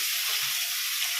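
Tomatoes tossed into hot oil in a pan, cooking for a Tamil-style prawn biryani, give a steady, faint hiss of frying that holds evenly with no voices over it.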